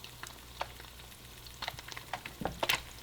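Eggs frying in oil for huevos divorciados, a soft continuous sizzle with scattered crackles and pops close by, and no talking.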